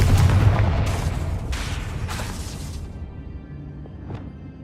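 A loud fiery blast from the Confringo spell in Hogwarts Legacy, a deep rumbling boom that rolls out and fades over several seconds.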